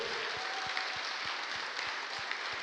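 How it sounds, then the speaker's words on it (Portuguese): Congregational applause in a church service, a steady wash of clapping at moderate distance with a faint low rhythmic thump beneath it, continuous throughout. "Aplauda o Senhor aí."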